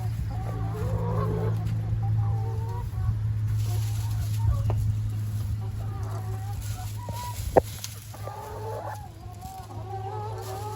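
Chickens cluck and murmur steadily nearby, with a low engine-like hum running underneath and a brief sharp knock partway through.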